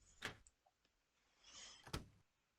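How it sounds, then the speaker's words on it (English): A door unlocking in the Dino Crisis video game: a sharp mechanical clack, a brief whirring slide, then a second firm clunk, heard alone and fairly quiet. "Door has been unlocked."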